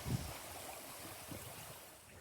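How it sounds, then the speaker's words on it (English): Soft, steady rush of the Slitting Mill Waterfall flowing in the distance, a faint continuous wash with a brief low thump near the start. "to visit the Slitting Mill Waterfall"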